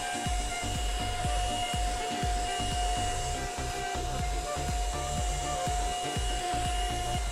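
Ultenic U10 cordless stick vacuum cleaner running steadily, cleaning wall corners, a constant whining motor hum with a tonal whistle and rhythmic scraping knocks of the brush head throughout.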